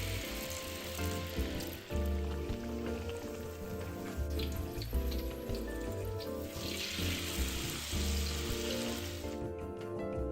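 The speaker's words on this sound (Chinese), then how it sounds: "绿豆脆饼油炸至金黄色后就能夹起" Mung bean crackers deep-frying in hot oil until golden give off a steady, dense sizzle and bubbling that runs the whole time beneath background music.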